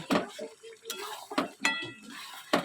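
A utensil scrapes and clinks against a pan of frying eggplant close by, in short irregular strokes with a few sharper metallic knocks.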